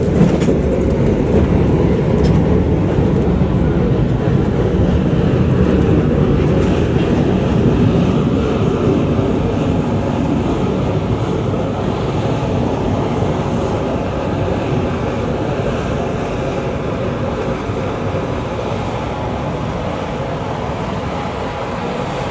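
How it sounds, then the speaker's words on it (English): A steam logging train on the Yosemite Mountain Sugar Pine Railroad in the Sierra does a blowdown, a loud, continuous roaring rush of steam that holds steady for over twenty seconds and eases slightly toward the end. "What the train was doing right there was a blowdown."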